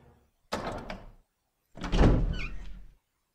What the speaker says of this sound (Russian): Открывание двери нельзя скипать!